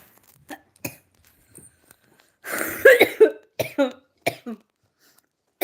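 A presenter suffering from a cough during an indoor live stream lets out a loud, harsh cough burst mid-clip, with smaller throat-clearing coughs before and after it in otherwise quiet surroundings.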